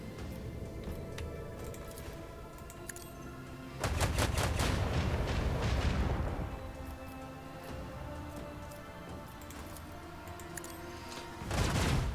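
Ship weapons firing at incoming torpedoes in the Warhammer 40k Rogue Trader video game, with dense rapid bursts of gunfire and booms over a steady game soundtrack, loudest in two long volleys.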